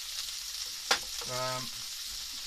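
Prawns sizzling in a hot pan on a boat's galley hob, a steady close hiss broken by a sharp clatter as they are tossed and turned over.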